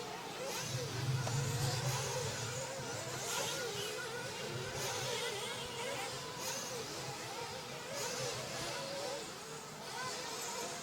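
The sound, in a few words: 1/8 scale off-road RC car engine revving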